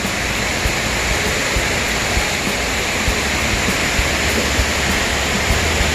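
Balite Falls pours in a steady, loud, close roar of rushing water that holds unbroken throughout, with no voices over it.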